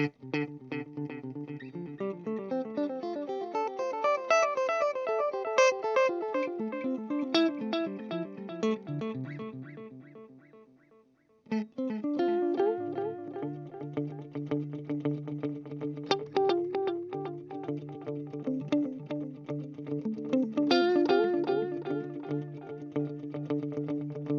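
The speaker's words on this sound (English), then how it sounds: "it starts getting a little more interesting now, is a dotted eighth delay" Clean electric guitar notes through a GFI Clockworks digital delay set to a dotted eighth, a rhythmic echo repeating each pick in a cascading pattern; a short pause midway, then the delayed phrasing resumes.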